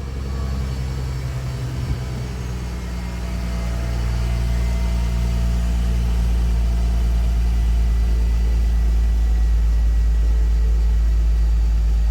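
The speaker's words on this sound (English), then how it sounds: "You can literally hear all of the pumps going crazy to try and pick up that nose." A Mercedes-Benz CLS 350 W219 with collapsed air suspension runs at a steady close engine drone, and a deeper, louder hum of the suspension pumps swells in partway through as they work to lift the car.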